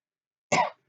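A single short cough, close and fairly loud, breaks a silence during a football review of the Euro 2020 last 16 Belgium-Portugal game, with no talking around it.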